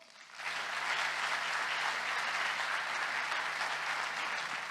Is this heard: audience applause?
yes